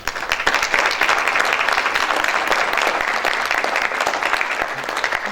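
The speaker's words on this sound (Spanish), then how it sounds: "para quien pido un caluroso aplauso" Sustained applause from a large crowd at a parents' school event, steady and dense for several seconds with many hands clapping at once.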